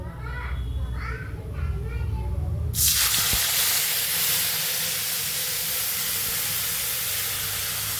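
Spice paste for potol dolma tipped into a hot pan, bursting into a loud, sustained close sizzle that runs to the end, following a few seconds of voices.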